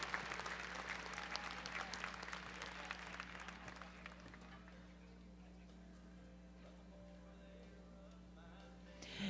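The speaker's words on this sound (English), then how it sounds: "Give them all a nice round of applause." Audience applause at a horse show after the cart division entries, a broad wash of clapping that starts loud and gradually fades to a thinner patter, with a steady low hum running underneath throughout.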